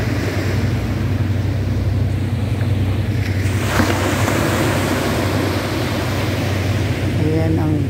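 Ocean surf at the seashore at night, a steady loud wash of waves with rumbling wind on the microphone running throughout, no clear pauses.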